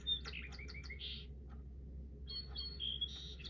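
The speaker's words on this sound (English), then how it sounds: "That is a song sparrow singing a song at 8 a.m." A song sparrow sings in the morning, two bursts of bright trills and chirps separated by a short pause, fairly faint over a low steady background hum.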